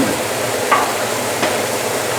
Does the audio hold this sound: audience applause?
no